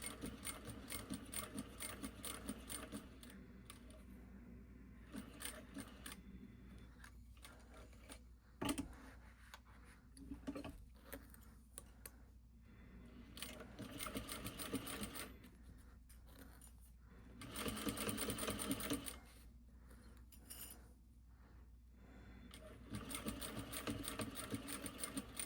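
A sewing machine bastes mesh in place, its stitching arriving in close, quiet bursts broken by short pauses, with a longer steady run near the end and no talking.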